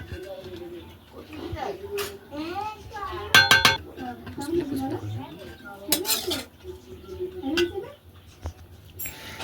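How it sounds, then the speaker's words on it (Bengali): Fried rice being mixed in a pan with vegetables, with sharp metallic clanks and scrapes of a utensil against the pan. People talk over it and birds coo in the background. "এইদিকে ফ্রাইড রাইসটা মিক্স করার প্রসেস শুরু হয়ে গেছে"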